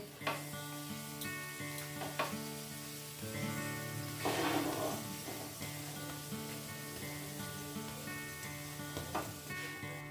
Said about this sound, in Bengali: দেখো আমার আলু পরোটা ভাজা হয়ে গেল।